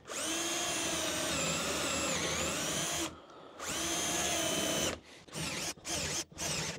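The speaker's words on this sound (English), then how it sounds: "Plonk it on the wood and let's just drill a hole." A power drill drilling into scrap wood whines steadily for about three seconds, pauses briefly, runs again, then finishes with several short stop-start bursts.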